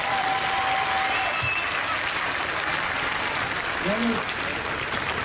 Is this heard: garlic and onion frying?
no